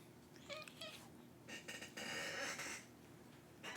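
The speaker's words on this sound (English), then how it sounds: "Gonna stop this and get the cat out of here." A cat makes short meows and vocal noises up close and fairly faint, with hissy, breathy bursts in the middle over a quiet background and no speech.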